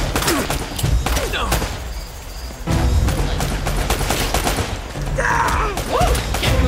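Gunfire in the Uncharted video game, with repeated bursts of shots and impacts in a dense, loud firefight with short pauses and a voice speaking over it.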